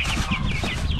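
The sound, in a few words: Rhode Island Red silkie cross chicken clucking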